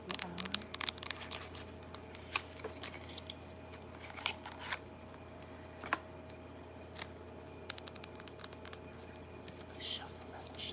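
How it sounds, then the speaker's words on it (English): Playing cards shuffled close up in a quiet room, soft riffling and crisp snapping flicks scattered across the clip with faint whispering-like rustle underneath. "Shuffle it."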